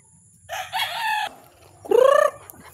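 A rooster and hens are fed in a Philippine backyard flock. Nearby, loud clucks and a short crow-like call rise and fall over a quiet background, in two distinct bursts.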